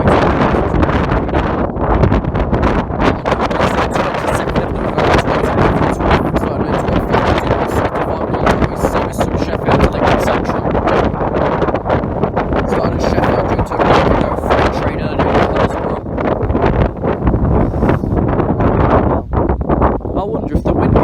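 Strong wind buffets the microphone at a railway level crossing: a loud, continuous roar and rumble throughout with no clear breaks.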